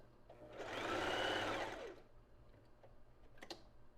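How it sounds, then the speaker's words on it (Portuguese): Domestic sewing machine stitching lingerie fabric in one steady burst of whirring lasting about a second and a half, then stopping, followed by a few faint clicks. "começa a costurar, dou o retrocesso, assim como eu fiz na outra."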